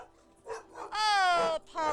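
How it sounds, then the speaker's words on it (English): A startled dog barks and yelps in a short burst indoors after a knock at the door, loud bright harmonic barks with a brief pause between, a little background speech around it. "somebody knocked on the door and scared Kay half out of her puppy wits"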